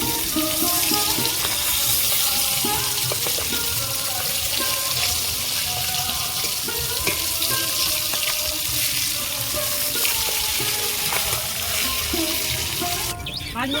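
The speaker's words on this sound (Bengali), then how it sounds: "মাছগুলো এক মিনিট ভাজা হয়ে গেছে উল্টে দেবো" Flipped parshe fish keep frying in hot oil, producing a continuous hissing sizzle with scattered pops and crackles, steady and fairly loud across the whole stretch, no voices heard.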